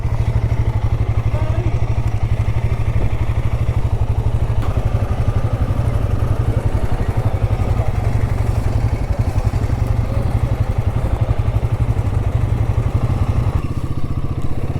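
A motorcycle engine idles loudly and steadily at close range as the bike is ridden onto a boat for a crossing of Chilika lake, with occasional clatter and thumps over the constant rumble.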